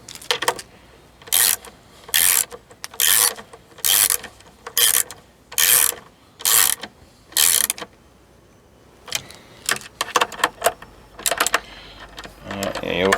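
Tuners on an acoustic guitar headstock are tightened with a tool, giving about ten evenly spaced, close ratcheting bursts, then a looser scatter of shorter clicks and rubs, with a voice speaking over parts of it.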